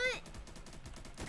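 Rapid gunfire from a big gun in a zombie video game, a quick burst of evenly spaced shots at moderate level, with a voice breaking in at the start and end.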